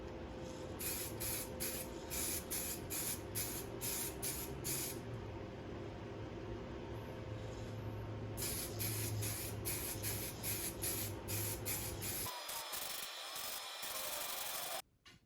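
Spray gun laying clear coat on a 1955 Ford Thunderbird steering wheel during a resto-mod, a steady close hiss broken by repeated short bursts and pauses, running alone without talk before stopping abruptly near the end.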